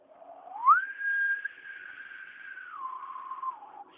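A person whistles a long steady tone, rising at the start and dipping near the end, imitating the train-like whistle of a sweet potato vendor's steam cart.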